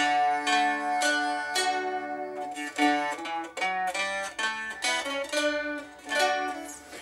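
An unamplified metal-stringed teardrop Bettenlager Bowl is played alone, with bright plucked notes and strummed chords ringing close and clear in a steady, flowing rhythm.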